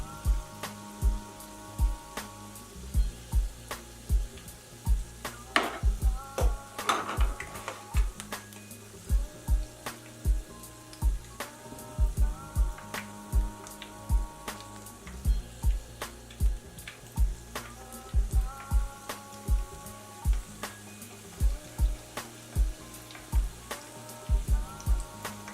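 Beer-battered fish sizzles steadily as it fries in hot oil, a dense, continuous crackle with frequent sharp pops spread throughout, close and even in level, with no talk over it.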